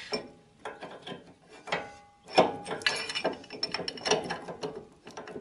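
A notched nut is screwed onto an axle set in a car's front crossmember, giving a series of close ratcheting clicks and mechanical clatters in uneven bursts.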